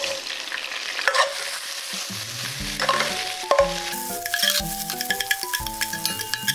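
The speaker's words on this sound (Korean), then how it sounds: "불을 올려서 요것들을 좀 살짝 볶아준다." Garlic, ginger, Sichuan pepper and dried chilies stir-fried in hot oil in a wok for mala xiang guo, with a loud steady sizzle and scraping stirring strokes, close and continuous.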